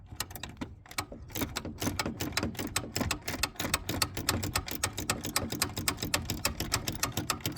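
Steady rapid ratcheting clicks from a socket wrench loosening a 10 mm bolt on a Ford F-150 hood latch, close and continuous for several seconds.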